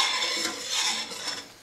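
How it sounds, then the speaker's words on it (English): A spoon stirs and scrapes in a pot of boiling chocolate gravy on the stove, giving soft, close scraping strokes and light clinks in an uneven rhythm at low volume, with no voices. "Keep stirring."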